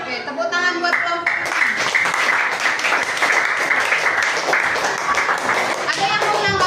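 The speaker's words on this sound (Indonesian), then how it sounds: "Oke, tepuk tangan buat kelompok." Students in a classroom clap for a group of classmates, giving lively, dense applause throughout, with children's voices and chatter mixed in and brief speech at the start and end.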